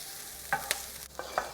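Onions, garlic and chili fry in a pan for a pepper and walnut dip, giving a soft steady sizzle broken by a few quiet scrapes and taps of stirring.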